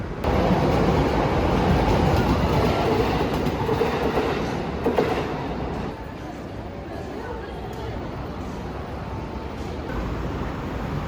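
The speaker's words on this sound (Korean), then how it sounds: "여기 올라가면 전철 지나가는 걸 찍을 수 있을 것 같아서" A commuter train passes in Shibuya, Tokyo, with a loud continuous rumble and clickety-clack of wheels on rails that fades slightly partway through, heard close with no talk.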